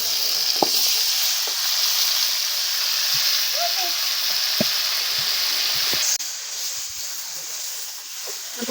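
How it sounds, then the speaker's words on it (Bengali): Two kilograms of beef go into a pot of onions frying in hot oil, making a continuous hissing sizzle with a few clinks and knocks, then dropping slightly quieter partway through. "এখন আমরা সেই মাংসগুলো এর ভিতর দিয়ে দেবো।"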